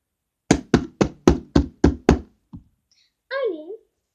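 Seven quick knocks on a soft suitcase imitating a door knock, evenly spaced and fairly loud, followed by a short thump and a brief child's vocal sound.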